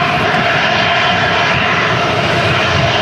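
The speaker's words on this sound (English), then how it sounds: "Bit of a twitchy landing there, I would say." An airliner comes in to land at Manchester Airport in strong storm crosswinds, its engines roaring loud and close in a steady, broadband rumble that fills the whole stretch.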